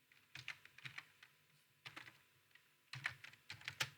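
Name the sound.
typing a command on a computer keyboard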